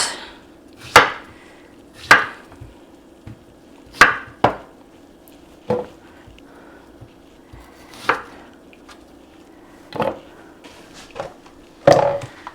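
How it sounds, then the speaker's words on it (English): Ingredients being chopped into smaller pieces with a knife, with sharp, close knocks on a cutting board coming roughly one to two seconds apart, each ending quickly, with no talking. "let me chop this up in smaller pieces"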